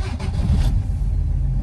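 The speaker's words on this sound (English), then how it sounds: "let's see if she fires up again" A 1963 AMC Rambler's engine cranks and catches, then settles into a steady, rough low rumble close by, with no talking over it.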